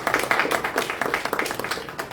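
Hands clapping in a steady run of sharp, closely spaced claps, fairly loud and continuous throughout, with no voices over them.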